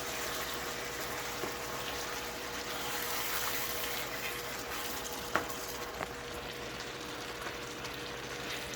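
Homemade sauce is stirred into spaghetti in a hot pan, giving a steady, close, unbroken sizzling hiss with a couple of faint clicks from the utensil.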